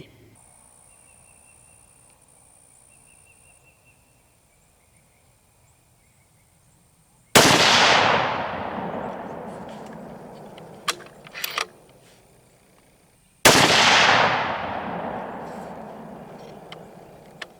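A rifle chambered in .260 Remington fires handloaded rounds at a shooting range. Two loud, close gunshots boom several seconds apart, each trailing off in a long echo, with faint handling noise between them.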